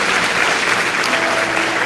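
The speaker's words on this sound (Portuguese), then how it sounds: "Vamos aplaudir o Senhor pela vida dela." A festive church service congregation gives the Lord a loud burst of applause, dense and close. The steady clapping fills under two seconds, with a faint tone running beneath it.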